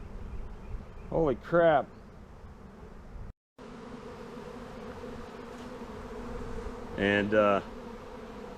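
A honeybee swarm at a bee ranch, a dense continuous buzzing drone filling the air around the recordist, with brief exclamations from a man over it.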